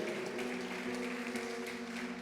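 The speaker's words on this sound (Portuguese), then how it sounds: "Você pode aplaudir o Senhor?" Worshippers at a Sunday afternoon church service applaud the Lord, a continuous even wash of many hands clapping at moderate distance with no voice over it.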